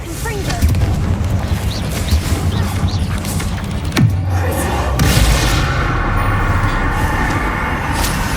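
A Confringo fire spell bursts in Hogwarts Legacy with one loud, sudden boom near the middle, its rumble fading over a dense backdrop of game noise.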